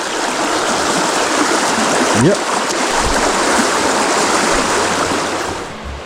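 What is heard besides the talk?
mountain brook flowing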